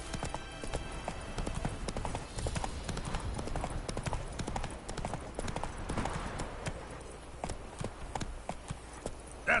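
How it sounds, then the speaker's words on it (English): Horse hooves beat steadily at a gallop across the ground in The Witcher 3, a continuous rapid clip-clop alongside game ambience. "That's it, Roach."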